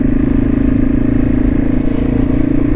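A dirt bike rolls down a neighborhood street, its engine droning steadily and loudly up close with a low, continuous rumble and no breaks.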